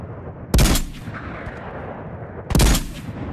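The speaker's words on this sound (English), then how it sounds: "Bro just ate two Barrett bullets" Two loud Barrett sniper rifle shots ring out in a video game, each a sharp blast with a short echoing tail, about two seconds apart over a low background hum.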